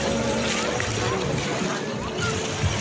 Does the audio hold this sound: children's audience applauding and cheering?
no